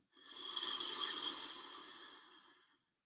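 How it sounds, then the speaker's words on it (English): One long, deep, close inhalation through the nose and mouth, an airy hiss that swells, holds and fades over about three seconds, alone in a quiet space. "And breathing all the way in."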